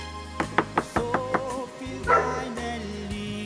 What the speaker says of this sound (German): Der Hund ist schon mal da und die Chefin.